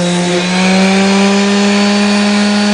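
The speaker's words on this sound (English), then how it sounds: "carve the edges of this wood. If I just want to round it over, if I want to put a chamfer on it" A power tool runs loud and steady, holding a constant high whine with strong tonal hum while carving and rounding over the edges of a wooden piece. No speech is heard.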